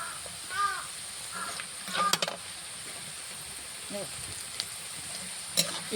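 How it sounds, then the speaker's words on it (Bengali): A faint, steady hiss of meat frying in oil, with occasional clinks and crows cawing in the background. "তেলের মধ্যে ছেড়ে দিলাম মাংস,"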